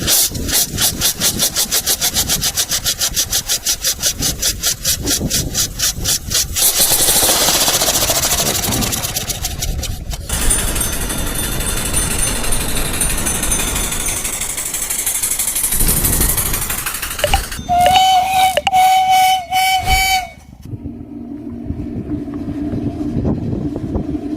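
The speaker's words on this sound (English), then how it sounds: "Steam motorcycle." A steam-powered motorcycle engine chugs loudly and steadily, with rapid pulsing at first, then a rushing hiss and wind noise, ending in quieter idling.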